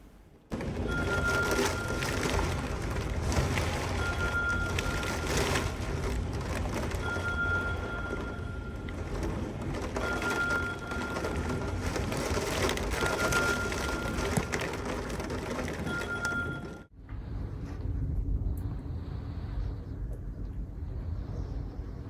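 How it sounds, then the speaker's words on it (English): A Davis Vantage Pro 2 weather station console sounds an alarm during a damaging windstorm, a steady repeating electronic beep tone over loud continuous noise that stops abruptly, leaving quieter indoor rumble. "What you're about to hear is my Davis Vantage Pro 2 weather station console alarming"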